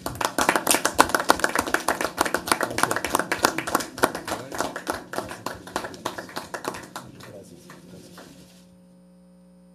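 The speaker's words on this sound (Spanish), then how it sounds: "un aplauso, presidente" Applause in a Mexican legislative chamber after party coordinators sign initiatives on the National Guard: a burst of hand clapping with sharp irregular claps, some voices mixed in, fading out near the end into a steady hum.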